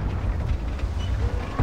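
A tank cannon round slams into an IS-3 heavy tank during a World of Tanks clan wars battle, a dull low boom over a continuous rumbling battlefield din, with a sharper burst near the end.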